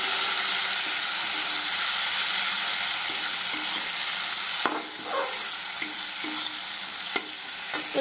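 Green chilies, ginger-cumin paste and turmeric frying in a pan, a steady close sizzle and hiss with occasional stirring scrapes and clinks throughout.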